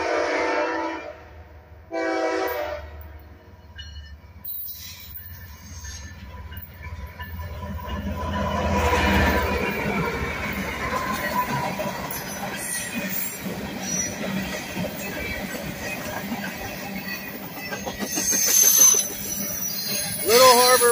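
CSX I031 freight train heading westbound past Elsmere Junction, with a loud passing rumble, squealing wheels and a horn note, joined later by a screech. The train builds from quiet to a steady roar, with voices audible early on.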